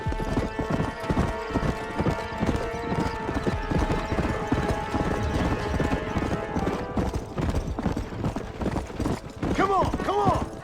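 Horse hooves galloping in the Western video game Red Dead Redemption, a fast continuous clip-clop close and loud, with occasional whinnies and rattling tack, game music and ambience underneath.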